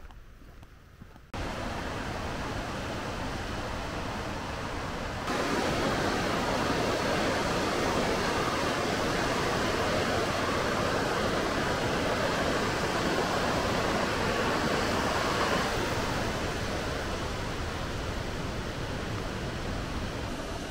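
Makama Falls waterfall near Hilo, Hawaii, gives off a steady rushing roar of falling water that grows louder after a few seconds and then holds constant, with no talking.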